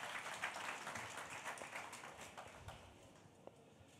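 Audience applause at a press conference in Italy launching the first national ALS biobank, greeting Prime Minister Giuseppe Conte: a faint, steady wash of many hands clapping at a distance, with scattered sharper claps.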